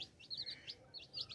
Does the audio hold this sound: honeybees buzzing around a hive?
no